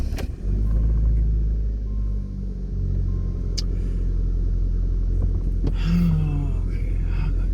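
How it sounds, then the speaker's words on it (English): A Dodge Shadow Shelby CSX-VNT idles with a steady, loud low rumble as it is moved, the engine note rising briefly near the end, with a few faint clunks in the background. "move this car"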